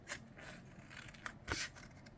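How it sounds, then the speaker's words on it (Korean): Scissors cut through two stacked sheets of paper, giving a few quiet, separate crisp snips and rustles with soft handling noise between them. "이 두 장을 같이 오립니다"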